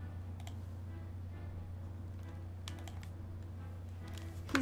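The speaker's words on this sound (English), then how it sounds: "Could you stop working on my keyboard, please?" A pet cat walks across a computer keyboard, producing a steady run of scattered, irregular key clicks and taps, close and fairly quiet over a low background hum.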